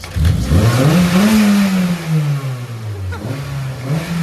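A turbocharged Honda Civic engine with a custom exhaust revs up and holds a high whirring pitch, then dips and climbs again, loud and close with no talking.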